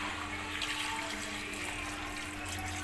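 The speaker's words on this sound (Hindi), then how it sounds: "थोड़ा सा और मैं इसमें पानी डालूंगी।" Water poured into a hot pan of frying capsicum and onion masala, a steady continuous hiss and splash lasting a few seconds, close and alone without talk.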